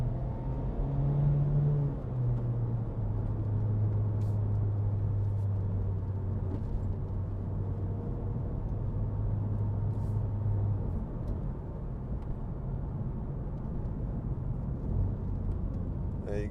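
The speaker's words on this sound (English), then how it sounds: "just blips the throttle itself when you change down." A Honda Civic 2.0 i-VTEC Type R GT's engine drones steadily from the cabin, with a low rumbling hum and faint throttle blips on downshifts, while a person talks over it.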